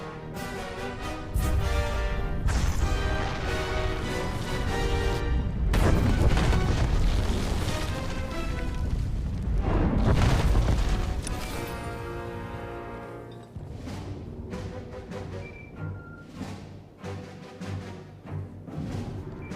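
In Star Wars: The Old Republic, an explosion brings down a building: a loud, sustained booming roar with crashing debris that builds for several seconds, then thins into scattered rumbles and clatter as it settles.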